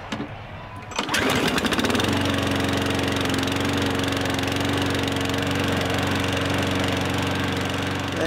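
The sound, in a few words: F1 car engine in video game F1 2017, Honda engine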